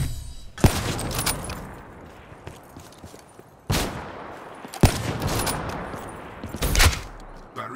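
Several sharp gunshots crack out at irregular intervals, close and loud, each with a short ringing tail, over a background of rustling and handling noise.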